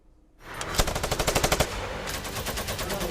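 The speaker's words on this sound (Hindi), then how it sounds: "तालिबान और आईएसकेपी लड़ाकों के बीच गोलीबारी और फायरिंग।" Rapid automatic gunfire from a clash between Taliban and ISKP fighters near Kabul airport, a loud sustained burst of machine-gun fire with evenly spaced shots, continuing with no talk.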